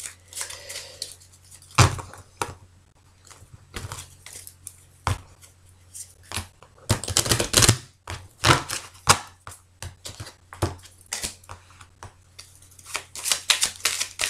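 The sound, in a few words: cutting and handling a deck of tarot cards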